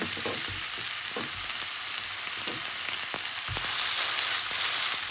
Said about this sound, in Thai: เราก็จะทอด ไปในกระทะในกระทะค่ะใส่น้ำมันแค่นิดๆน้อยๆ